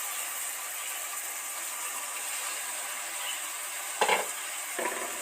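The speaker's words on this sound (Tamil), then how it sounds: "நல்லா கலந்துக்கோங்க." Fatty mutton pieces sizzle steadily in a hot pan as they are stirred, a constant fizzing hiss with a couple of brief utensil scrapes and clinks near the end.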